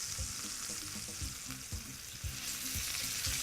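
Veal shank for osso buco sears in a hot pan, a loud steady sizzle broken by a rhythmic series of low thumps and scrapes as the meat is shifted.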